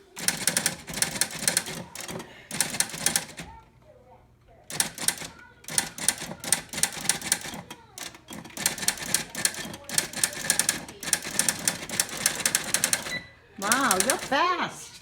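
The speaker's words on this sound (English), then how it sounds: "How do you like your typewriter?" A mechanical typewriter being typed on in rapid bursts of sharp clacking keystrokes with pauses between, close and loud, with people talking at times.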